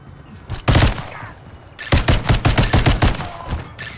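Gunfire rattles in Call of Duty MW3 with the Firecracker operator: a short burst, a pause, then a longer run of rapid, loud automatic shots close by, with no talking.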